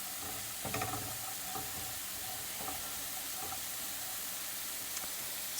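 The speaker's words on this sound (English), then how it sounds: "we are just going to let these saute for a couple of minutes" Carrots and other vegetables sautéing in a pan, a steady close sizzle with a few brief stirring scrapes and clinks, no talking.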